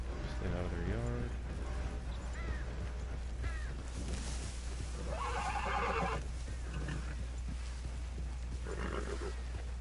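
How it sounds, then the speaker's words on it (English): A horse in the video game Red Dead Redemption 2 whinnies loudly early on while walking through brush, with further neighs and snorts over a steady low hum and some background noise. "Horse is mad that he has to walk through the brush."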